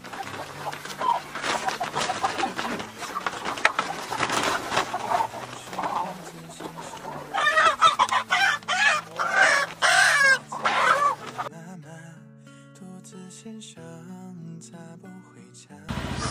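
Chickens cluck and a rooster crows at close range on a farm, busy clucking rising in several loud bursts, with a person's voice briefly mixed in before the flock quiets toward the end.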